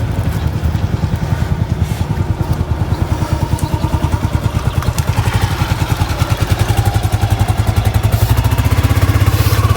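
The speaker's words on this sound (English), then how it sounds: "And that was my wife going by on the motorcycle." A motorcycle engine runs steadily close by with a rapid, even firing pulse and some mechanical clatter, heard at a fairly constant level for the whole stretch with no talk.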